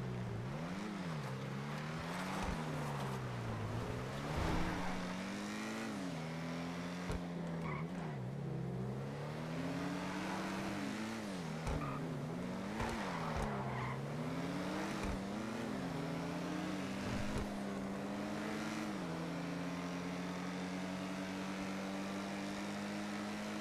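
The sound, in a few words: car driving fast and skidding in a GTA roleplay video game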